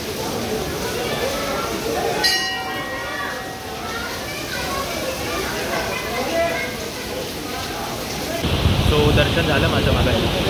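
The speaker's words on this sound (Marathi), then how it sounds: "आता पाऊस थांबला आहे, म्हणजे माझ्या मागे तुम्ही धबधबा बघू शकता." The Marleshwar waterfall roars steadily after monsoon rain, a broad continuous rush that swells louder near the end, heard beneath a person talking and a crowd of visitors.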